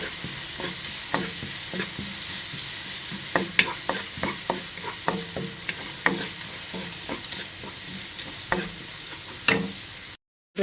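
Ingredients for palak paneer sizzle loudly in a hot pan, a constant hiss broken by sharp scraping taps from a stirring spoon, close up, with no talking and an abrupt cutoff near the end.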